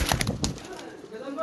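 Pigeon cooing, soft low coos heard together with flutters and some voices, fairly faint and short.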